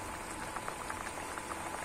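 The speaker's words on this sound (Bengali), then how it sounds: "খুব সুন্দর কিন্তু মাছের ঝোলটা বন্ধুরা ফুটে উঠেছে" Hilsa fish curry with eggplant simmers in a pan, giving a faint, continuous bubbling and popping hiss close by with no talk.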